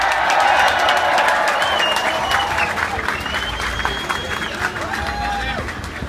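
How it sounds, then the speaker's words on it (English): A crowd at a London street demonstration for Gaza breaks into sustained applause, a dense, loud wash of clapping that holds steady for several seconds with a few high whistle-like tones rising above it. "Give him a big round of applause"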